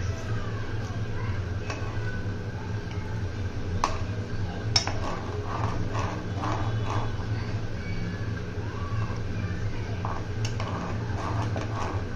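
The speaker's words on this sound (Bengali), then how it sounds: "সবগুলো উপকরণ সিদ্ধ হওয়া পর্যন্ত এভাবে নেড়ে চেড়ে সিদ্ধ করে নেব।" Thai soup ingredients boil in a pot while being stirred, a steady low bubbling bed broken by occasional light clinks and scrapes of a utensil against the pot.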